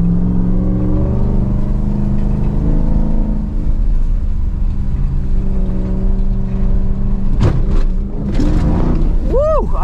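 A Ram TRX truck revs its engine after landing a jump over a Viper ACR at an outdoor Mopar event, a loud sustained roar with sharp rising revs near the end, under constant talk and excited voices.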